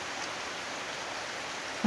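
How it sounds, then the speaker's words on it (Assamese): Heavy rain pours steadily in Jorhat, Assam, a dense, even hiss of drops close by that holds throughout, with a brief louder knock right at the end. "এতিয়া পূৰা বৰষুণ দি আছে"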